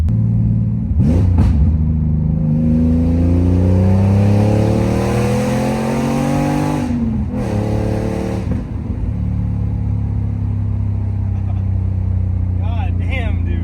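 A 1995 Porsche 993 engine revs hard several times through a loud, rumbling aftermarket exhaust, pitch climbing and dropping, close by, with brief talk in between.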